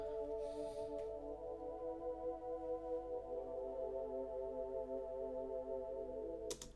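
A simplified chord progression with the third intervals muted plays from an Ableton Live MIDI clip, soft sustained synth tones shifting slowly, quiet and steady throughout.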